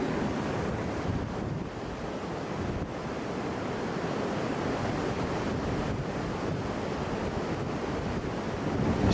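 Strong, steady wind roars across the microphone at a black glacier mixed with rock and stones, a continuous rushing buffet that never lets up, with no voices heard.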